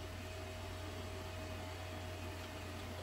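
A cheap PC speaker box from a budget late-1990s computer hisses with a steady, faint broadband static and a low hum, alone and unchanging throughout.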